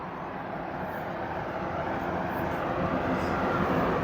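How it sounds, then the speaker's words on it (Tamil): A Saudi Arabian Railways train arrives on the opposite track at a station on the Dammam to Riyadh line, its steady broad rumble slowly growing louder. "அங்கே பாருங்க, ஆப்போசிட்ல இன்னொரு ட்ரெயின் வருது."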